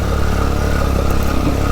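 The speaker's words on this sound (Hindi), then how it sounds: "कुछ बाइकर्स जा रहे हैं" Motorbikes rumble steadily along a stony mountain road in Swat's valleys, their mid-range engines droning loud and continuous with no voices.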